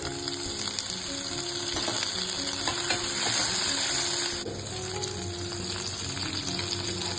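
Cumin, grated ginger and garlic fry in hot oil for a lentil curry, a dense steady sizzle up close with occasional light stirring clicks and no talking.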